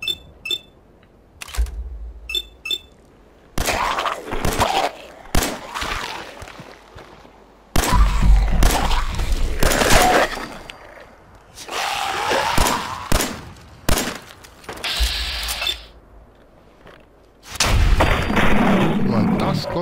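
Gunfire in Fallout 4: loud, sharp shots arrive in separate bursts across the stretch, with someone talking between and over them.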